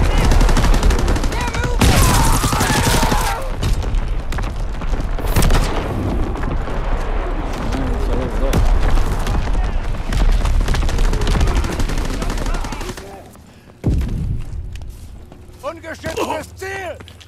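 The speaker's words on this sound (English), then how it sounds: "Incoming enemy artillery! Get to cover!" Call of Duty WW2 battlefield with dense gunfire, machine-gun bursts and booming artillery impacts, loud and continuous for most of the span before a brief lull and a few more distant shots, with game voices shouting over the din.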